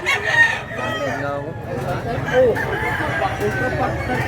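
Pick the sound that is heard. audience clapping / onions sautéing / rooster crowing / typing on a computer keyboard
rooster crowing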